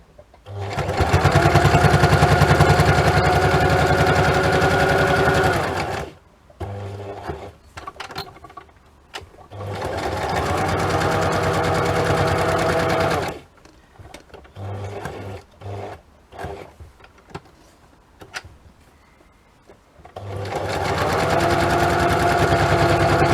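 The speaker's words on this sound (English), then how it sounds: "Right, so we've sewn around it." Sewing machine stitching around paperclip ephemera, running in three long loud steady whirring stretches of several seconds each, separated by quieter pauses with small handling clicks.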